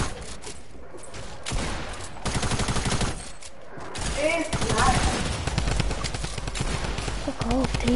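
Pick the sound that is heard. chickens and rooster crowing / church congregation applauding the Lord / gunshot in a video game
gunshot in a video game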